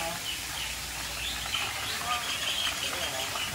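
Birds calling across the aviary grounds of Bali Bird Park, a steady mix of chirps and whistles of moderate loudness under continuous ambient noise, with people talking nearby.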